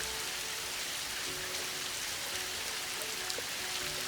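Steady rain falling, a constant dense hiss of drops pattering on surfaces with no voices.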